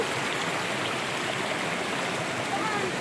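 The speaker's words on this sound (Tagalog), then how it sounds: "Kanina, ang lakas ng tubig yan." Strong stream water rushes steadily near a waterfall, a dense, loud, unbroken roar with no pauses.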